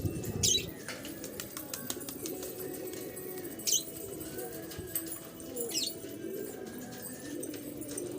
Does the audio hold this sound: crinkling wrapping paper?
no